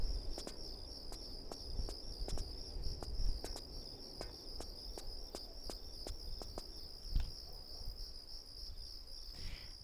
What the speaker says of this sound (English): It's a bit weird. I can hear crickets.